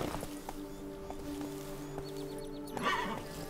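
Roach, a horse in The Witcher 3, moves with a rhythmic clip-clop of hooves, steady and close, with a brief snort or whinny-like burst near the end and no talking.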